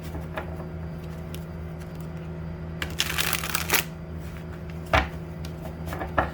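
Tarot cards shuffled close by in a few quick riffling bursts over a faint steady hum, with light taps and handling noises in between and no talking.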